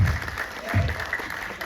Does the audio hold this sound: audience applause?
yes